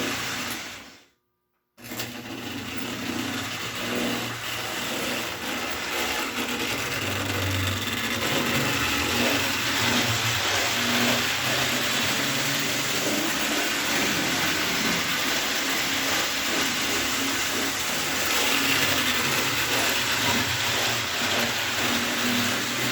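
A restored mid-1930s prewar American Flyer City of Denver O gauge toy train running, a steady loud whirring, rattling motor and wheel drone that continues without pause after a brief silence at the start.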